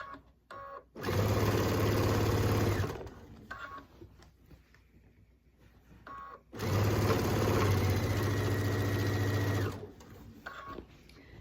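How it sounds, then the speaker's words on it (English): A sewing machine stitches down quilt binding in two long, steady runs of close, even whirring, separated by a quiet pause with brief starts and stops. "So I'm going to take it to the sewing machine and start stitching it down"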